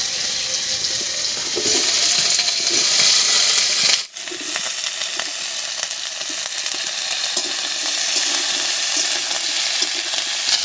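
Chopped eggplant and beans drop into a frying pan already cooking potatoes and tomatoes for a Bengali spinach chorchori, giving a loud, steady sizzle with a brief break and scraping, stirring sounds.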